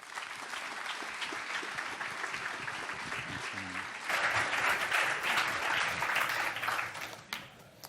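An audience claps to welcome a speaker at a talk on corporate whistleblowing, steady sustained applause that swells louder midway before tapering off near the end.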